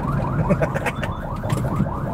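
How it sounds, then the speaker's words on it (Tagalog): An ambulance siren wails loudly and close, a rapid repeating yelp-like sweep pulsing several times a second with faint background noise. "Sige, pasingitin na natin yung ambulansya. Ang ingay niya."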